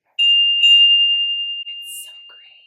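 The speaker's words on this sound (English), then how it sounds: "it's an antique bell, and I don't know, I love the sound." An antique bell is struck twice in quick succession, and a single pure, ringing tone sustains and slowly fades. Faint breathy sounds and soft background noises come in over the decay.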